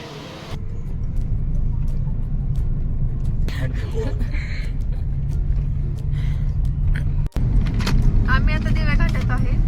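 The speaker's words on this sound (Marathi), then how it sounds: "मारा स्टार्टर" A Tata car's engine runs with a steady low rumble that fills the whole stretch, interrupted by a single sharp click and a brief dip near the end, followed by a faint whine and a short burst of chatter.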